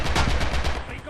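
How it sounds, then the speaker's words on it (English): A machine gun fires a rapid, loud burst of automatic rounds in the World War II shooter game Red Orchestra 2, close and sustained for about a second. "We mainly use a machine gun firing towards the front."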